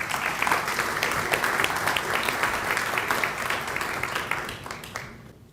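Sustained audience applause at a university award ceremony honoring a former Spanish president, a dense, even wash of many hands clapping that fades away near the end.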